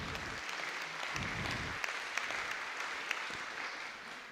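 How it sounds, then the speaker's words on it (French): Steady clapping from a conference audience, a dense broadband patter with a few sharper claps standing out, continuing for several seconds without talk. "Donc on peut les applaudir aussi"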